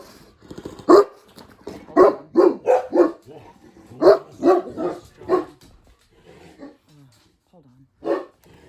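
A dog barks in repeated bursts, mostly in quick pairs and runs, fairly close, with a few pauses and softer whimpers between.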